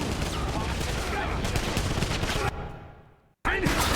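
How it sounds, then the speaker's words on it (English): A particle cannon in the 2009 Wolfenstein shooter fires in a dense, continuous blast of rapid bursts. It cuts off briefly into a fading tail, then resumes loud and close. "that cool particle cannon I picked up, we're gonna cycle to that now"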